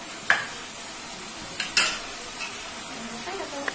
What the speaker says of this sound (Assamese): পৰ্ক ড্ৰাই ফ্ৰাই হ'ব